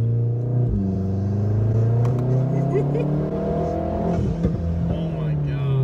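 A 2017 Volkswagen Golf R accelerates with a steady droning exhaust note and engine hum rising in pitch, heard from inside the car.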